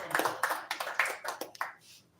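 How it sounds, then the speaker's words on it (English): A round of applause from the audience at a formal gathering with an EU election observation mission, scattered claps rising and falling in bursts before trailing off into quiet. "A round of applause, please"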